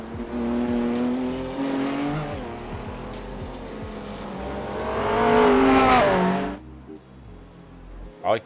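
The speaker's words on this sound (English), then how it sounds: "I could hear a McLaren." A McLaren race car engine in a racing game, testing for the Bathurst 12 Hour, revs and shifts through gears with a rising whine, tyre noise and a loud climb before cutting off, then a faint second car behind.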